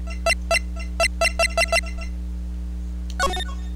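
A cell phone in the Phoenix Wright: Ace Attorney video game rings as a run of six sharp electronic beeps over a steady low hum, followed by a short chirpy jingle.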